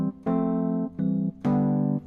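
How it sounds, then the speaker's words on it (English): Three sustained Rhodes electric piano chords played in a slow, mellow sequence, each ringing warmly before the next, with no other sounds. "Now we have that Rhodes piano sound"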